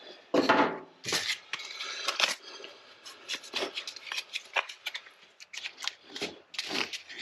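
Two-part repair compound being squirted out and stirred together for a cracked plastic gas tank on a Yamaha TTR 90 dirt bike, heard as close scraping, clicking and rubbing strokes in irregular bursts, with no talking.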